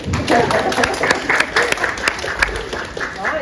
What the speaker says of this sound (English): So join me in a round of applause for Kate.